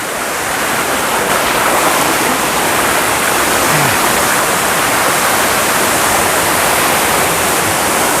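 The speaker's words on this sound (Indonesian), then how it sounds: "kita menuju ke air terjun yang kelima, dan ini sudah di depan kita ya." Curug Paniis, a waterfall at Sumur in Pandeglang, roars as a dense, steady rush of falling water, loud and close with no break throughout.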